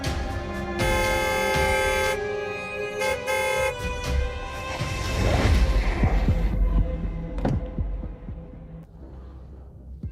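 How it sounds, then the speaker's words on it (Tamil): A car horn blares in long sustained honks, then gives way to rumbling traffic and engine noise with a few sharp knocks. "நான் எவ்வளவு நேரமா ஹார்ன் அடிச்சிட்டு இருக்கேன்"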